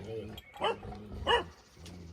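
A large dog, about 85 cm tall, gives two loud, deep barks roughly half a second apart, close by, over a low background murmur.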